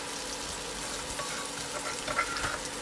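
Pounded chili and garlic hit hot olive oil in a pan while cooking a stir-fried mussels with basil dish, giving a steady, hissing sizzle throughout with a few brief crackles near the end.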